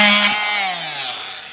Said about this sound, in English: So I use my handy reciprocating whiz banger here and just go in there.